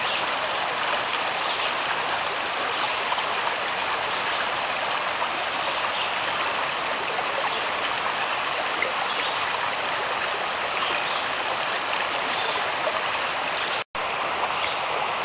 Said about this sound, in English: I'm going to just film into the stream right now